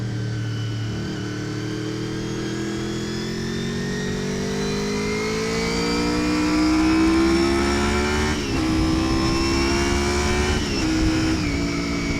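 A 1987 Honda VFR400R NC24 sport motorcycle engine under way, its whining four-cylinder note rising steadily through the revs with a brief gear-change dip, loud and close with wind rush beneath.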